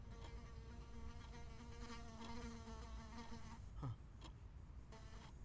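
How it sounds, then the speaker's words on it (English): Bee buzzing close and steady for several seconds with a wavering pitch, then cutting off abruptly near the end. "Pesky bee."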